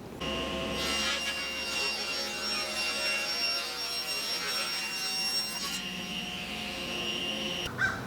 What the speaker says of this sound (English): I've moved my miter saw or my table saw fence to 7 inches, and we're going to rip the mid lower shelf.